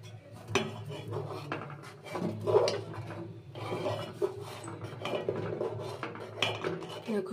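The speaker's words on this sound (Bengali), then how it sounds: "এবার এটাকে ভালো করে মিলিয়ে নেব।" Chushi payesh with date palm jaggery being stirred in a pot: steady scraping and rubbing of a spoon against the metal with small clinks, continuous and close throughout.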